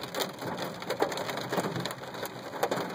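Heavy rain pelts a vehicle driving through flooded streets, a dense, fairly quiet patter of drops drumming on the surface with irregular louder hits and no talking.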